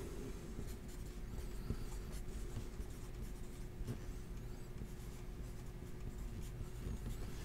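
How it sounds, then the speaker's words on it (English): Pen scratching steadily across paper while notes are written down during a wrestling card pack break, a continuous close scribbling texture with soft low room hum beneath. "So, Christopher, let me write this down."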